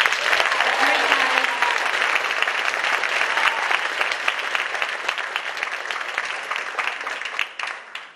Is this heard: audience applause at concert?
yes